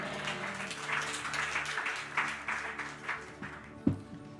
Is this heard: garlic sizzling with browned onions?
no